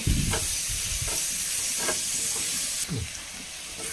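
Chopped tomatoes sizzle and hiss steadily in a hot pan while cooking for a squid roast, with a few scraping stirs of a spoon cutting through the constant frying noise.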